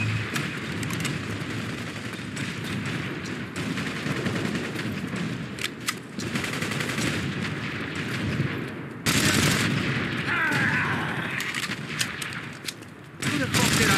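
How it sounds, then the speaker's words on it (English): Heavy combat in The Saboteur, with a tank and sustained gunfire: rapid bursts and booming blasts form a loud, dense, continuous barrage with sharp jumps in intensity. "Sounds like a fucking tank."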